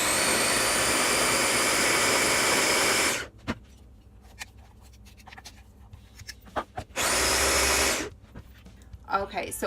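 A blender purees aji verde green sauce in two loud, close bursts of high-speed roar, the first lasting about three seconds and the second shorter, with scraping and clicks in the quieter stretch between them.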